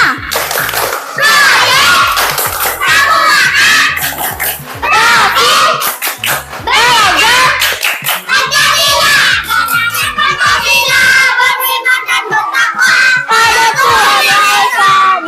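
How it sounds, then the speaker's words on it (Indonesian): A classroom of schoolchildren performs a tepuk semangat, shouting a chant in unison and clapping in sharp rhythmic bursts between the lines, loud and close with brief pauses. "ayo kita lakukan tepuk semangat"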